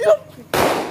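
A single sharp firecracker bang bursts out after a brief vocal sound, loud and close, with crackling noise trailing off.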